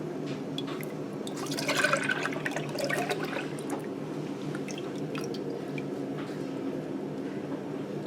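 Thick ice cream mixture pours and splashes steadily into a container, with a gurgling, sloshing texture close by.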